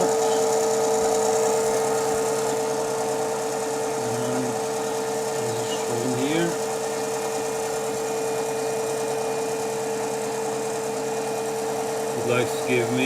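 A Smarty AT-300 lathe with electronic leadscrew spins its spindle while turning a cast iron backplate, giving a steady close mechanical hum with a constant whine, and brief voice sounds break in now and then.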